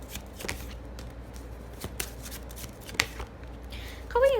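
Tarot cards being shuffled and drawn up close, crisp papery riffles and sharp card snaps and slaps at irregular intervals, with a small burst of handling at the end.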